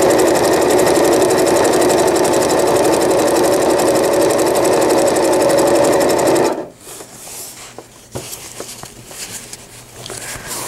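Loud, fast continuous whirring stitch of a sewing machine running elastic along a diaper cover, stopping abruptly partway through, followed by quiet handling clicks and faint movement.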